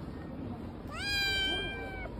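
A cat gives a single clear meow, rising then drawn out and sliding down, heard fairly close over a low background hum.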